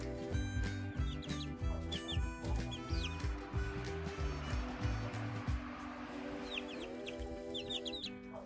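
Cuckoo Marans chickens cluck and chirp repeatedly at close range, a busy overlapping chatter of several birds with soft background noise.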